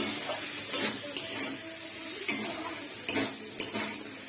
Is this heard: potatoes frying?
yes